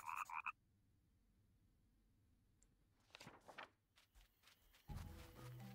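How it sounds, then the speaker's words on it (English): Frogs croak in a swamp in The Plucky Squire, with a loud burst of croaks at the start, then quieter scattered calls and a dull thump near the end. "It's frog. Now we're killing frogs now."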